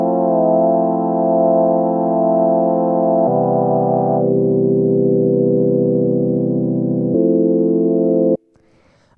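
Lo-fi house synth pad chords with a slow vibrato sustain in long, warm held tones, changing chord twice before cutting off abruptly near the end, loud and alone.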